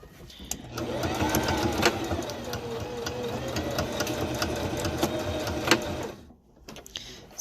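Sewing machine stitching a handmade fabric face mask liner, a steady close motor whir with rapid needle chatter running for about six seconds before cutting off.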